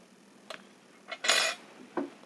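A utensil stirs a liquid detergent mixture with added urea and TSP in a container, giving a few sparse, light clinks and scrapes against the vessel, with quiet pauses between them.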